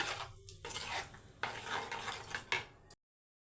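A spoon scrapes and clinks around a pot of Tamil vatha kuzhambu curry in a few bursts of stirring, with short pauses between, close up and fairly quiet.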